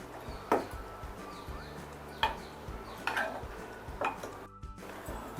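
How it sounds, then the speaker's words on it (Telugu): Boiled kandabachali greens are mashed in a pot with a hand masher, giving four or five distinct dull knocks and scrapes at irregular intervals, fairly quiet and close, with no talking. "స్మాష్ అయ్యేలాగా బాగా ఈ ఒక ఇన్స్ట్రుమెంట్తో మనం బాగా రుబ్బాలి"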